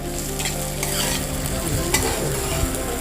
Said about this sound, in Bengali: তার মধ্যে আমি টমেটো কুচি দিয়ে দিচ্ছি টমেটোর কাঁচা গন্ধটা যতক্ষণ না চল যাচ্ছে ততক্ষণ একটু ভালো করে নেড়ে নেব